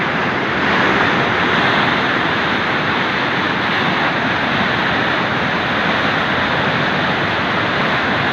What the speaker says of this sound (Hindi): पानी इतना तेज़ है, आप हवा भी देख सकते हैं।